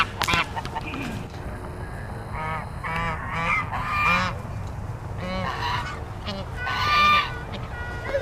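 Toulouse geese at the Lincoln Park Zoo in Manitowoc, Wisconsin honk loudly and repeatedly at close range, several calls overlapping in irregular bursts.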